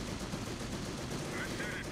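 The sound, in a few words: MG-42 machine gun firing in the video game Company of Heroes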